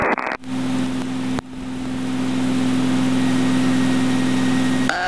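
Aerobatic plane engine running up to takeoff power, a steady close droning roar with a strong even hum after a brief cut, sustained and loud to the end.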